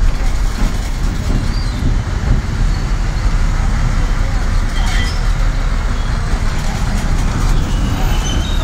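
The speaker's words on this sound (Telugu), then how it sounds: "కొత్తూరు లంక బస్సు బయలుదేరింది." A Kothurulanka-bound bus pulls away from Tenali, its engine droning steadily amid continuous road and traffic noise, with faint rattles and clatter throughout.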